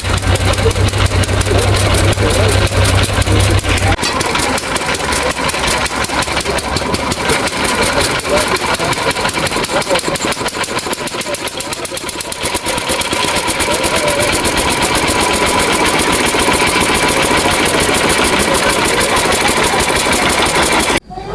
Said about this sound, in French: Donc là, c'est un moteur de 1925, alors. Monocylindre.